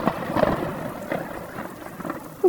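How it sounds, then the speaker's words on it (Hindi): Heavy rain pours steadily with rolling thunder rumbling through a stormy night, a dense continuous wash of downpour and low booms with a sharper crack near the end. "दिन ढलकर रात हो जाती है, लेकिन बारिश लगातार होती रहती है।"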